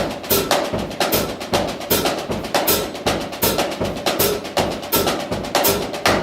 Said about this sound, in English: It's a combination of a paradiddle in triplet rhythm.